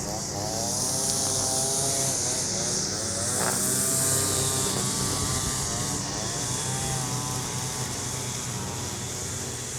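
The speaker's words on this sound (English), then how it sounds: "People mowing the lawn." A small engine drones loudly and steadily throughout, like a lawn mower running nearby, with faint talk underneath.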